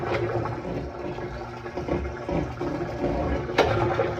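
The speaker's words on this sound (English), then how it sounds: "It's definitely draining water. So that pump is working." Water gurgles and rushes steadily as a Samsung washing machine drains, with a low pump hum and a brief splashy surge near the end.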